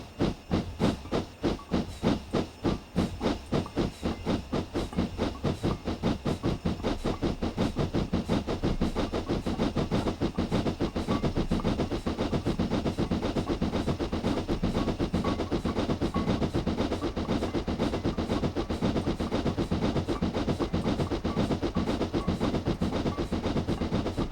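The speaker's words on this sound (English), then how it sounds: "the locomotive is more efficient with the lower reverser settings, which are necessary to achieve higher speeds" A steam locomotive in a British railway train simulator game chuffs steadily with a quickening, regular beat, its hissing exhaust and rail clatter continuous and close, with no voices.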